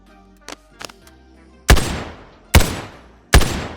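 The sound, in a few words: rifle gunshots in a video game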